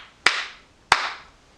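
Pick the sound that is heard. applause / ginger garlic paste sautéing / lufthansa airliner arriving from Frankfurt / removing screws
applause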